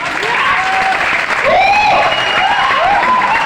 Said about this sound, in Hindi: तालियों का शोर थोड़ा स्लो हो रहा है